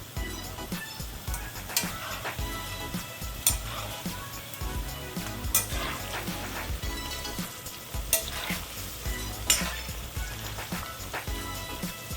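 Onion pakoras sizzle and crackle steadily in hot oil, with bursts of popping and occasional clinks of a utensil stirring the pan.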